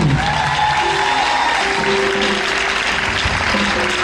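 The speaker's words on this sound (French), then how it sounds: "On peut acclamer le Seigneur Jésus" Steady applause from a church congregation at an end-of-year programme, an even wash of clapping that lasts throughout, with tonal voices or music faintly underneath.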